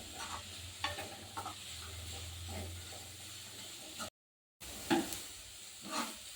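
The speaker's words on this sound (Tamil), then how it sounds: "கருவேப்பிலை கூட சேர்த்துக்கலாம். நல்லா வதங்கட்டும்." Curry leaves sautéing in a pan for Chettinad kara kuzhi paniyaram, a soft steady sizzle and hiss with occasional stirring scrapes, close and quiet, broken by a brief gap of silence.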